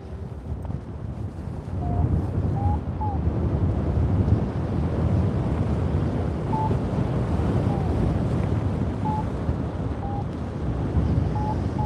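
Steady rushing wind roars across the microphone throughout while paragliding at full speed bar, with a few faint high tones rising briefly above it.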